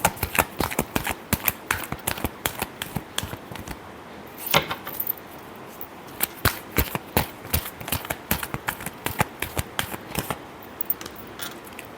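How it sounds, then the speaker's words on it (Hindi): Tarot cards being shuffled by hand, a rapid run of crisp riffling flicks and taps, close and fairly bright, in uneven bursts across the whole stretch with no speech. "Last shuffle."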